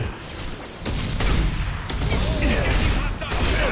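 Impact shot gunfire in Mass Effect 2, a burst of sharp game weapon blasts close and loud, repeated several times over a rumbling battle backdrop.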